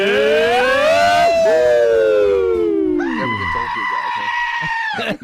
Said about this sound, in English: The goat always yells.